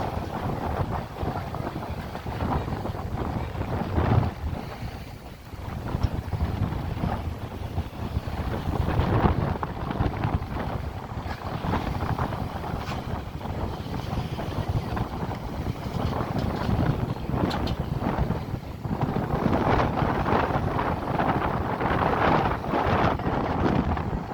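Strong wind blows across the microphone at the Baywalk waterfront in Calamba, Laguna, a steady loud rush with gusty surges throughout and no clear voices.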